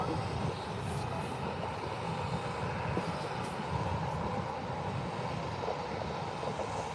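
Ryanair jet airliner at Birmingham Airport, a sustained engine roar with rumbling low end and a few brief high whines, steady and unaccompanied by voices.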